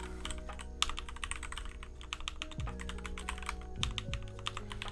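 Rapid, steady clicking of keys on a computer keyboard, close and continuous, with a low hum and occasional sliding tones underneath.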